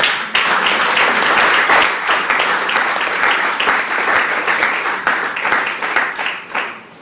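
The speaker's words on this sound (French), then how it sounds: "Je n'entends pas les acclamations." A church congregation at a special service breaks into loud, sustained applause and cheering, with dense clapping that carries for several seconds before tapering off.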